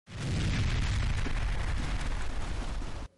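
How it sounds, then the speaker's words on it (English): Artillery fire mixed with gunship helicopters over Buner: a loud, sustained thunderous roar of booms and rumbling that runs unbroken for about three seconds, then cuts off abruptly. "Bunair is trembling from the loud bangs of latest artillery and gunship choppers."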